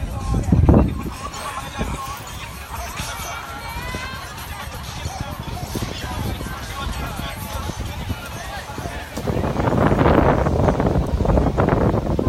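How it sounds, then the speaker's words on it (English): Wind buffets the microphone at the opening of a city's first dog park, a steady low rumble running throughout, gusting louder near the start and again in the last few seconds, with crowd chatter and voices in the background. "It's a little windy."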